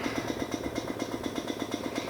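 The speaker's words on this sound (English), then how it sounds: "You guys ever heard of a hit and miss air compressor?" A hit and miss air compressor running on low power, a quick regular chugging pulse of about eight beats per second with a faint mechanical clatter.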